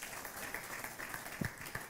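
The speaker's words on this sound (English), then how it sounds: "A big round of applause for Madam" Audience applause at a patient safety conference in a college lecture hall, a faint, steady patter of many hands clapping with a few sharper claps standing out.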